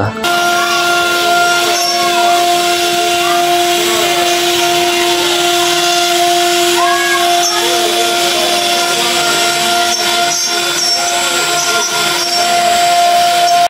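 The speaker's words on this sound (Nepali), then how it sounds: "झापामा स्थानीय स्तरमै निर्मित वुड आर्ट मेसिन युवाहरूको सृजनात्मकताको अनुपम उदाहरण।" A locally built wood art machine runs continuously, giving a loud, steady mechanical whine with strong sustained tones and a busy cutting texture throughout, with no breaks.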